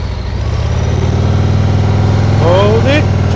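A motorcycle engine runs steadily at a low idle-like rumble through a slow turn with a passenger aboard, throttle eased back, loud and close with a brief rising tone near the end.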